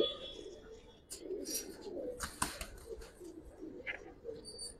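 Giribaz pigeons coo in a loft in old Dhaka, their soft repeated rolling calls close and steady, mixed with a few higher chirps and rustles while someone speaks quietly in the background.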